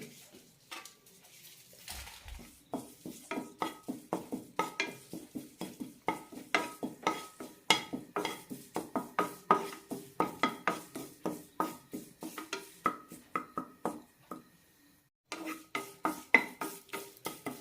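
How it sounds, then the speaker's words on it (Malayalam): Curry leaves roasting in a pan for homemade sambar powder, with a steady run of close scraping and stirring strokes against the metal and a faint dry crackle, pausing briefly partway through. "ഇനി കുറച്ച് കറിവേപ്പില വറുത്തെടുക്കാം"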